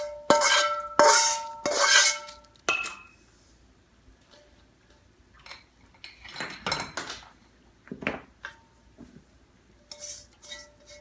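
A spoon stirs chevro snack mix in a bowl, making loud, close clinks and scrapes against the bowl in short bursts, then softer rustling pauses with occasional sharp taps.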